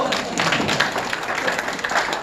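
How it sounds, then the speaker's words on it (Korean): A crowd at an outdoor political rally applauds with a busy, steady clatter of many hands clapping, loud and close, for a couple of seconds. "박수 한번 주시죠"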